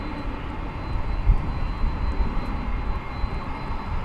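Qantas Boeing 787-9 Dreamliner jet airliner at DFW Airport at night, a steady loud roar of jet engines rumbling close by and alone for about four seconds.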